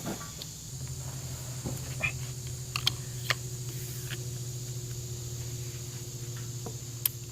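Sharp, faint clicks from adjusting a Bruin Ambush 370 crossbow scope turret, a few scattered ticks heard close up over a steady low electrical hum.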